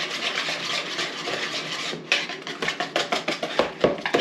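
A whisk beating pie batter in a bowl for a Mexican impossible pie, a continuous scraping rub that turns into rapid rhythmic clinking strokes against the bowl side.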